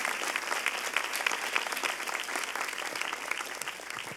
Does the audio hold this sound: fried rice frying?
no